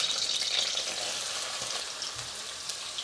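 Two diced onions sizzle steadily in hot oil alongside a cinnamon stick, bay leaf, four cardamom pods and four cloves for a lamb and potato curry: a dense, continuous crackle close up with no voices.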